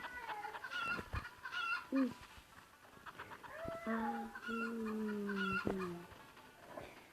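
Chickens cluck and squawk in short bursts, one call drawn out into a rising screech, with faint chatter and shuffling in the background.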